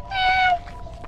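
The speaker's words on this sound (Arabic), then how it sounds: "ها قطوة في الشجرة يمكن شكلها مريضة" A cat up in a tree gives a single clear, drawn-out meow, fairly close and loud, followed by quiet background noise.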